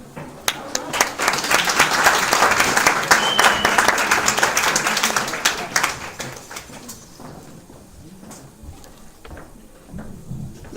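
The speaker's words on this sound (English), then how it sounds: "Ladies and gentlemen, let's give a big round of applause to Tiffany DeVasia." A theater audience at a one-woman show at a church breaks into loud, sustained applause, with sharp individual claps standing out, before it fades and scattered claps and a voice remain.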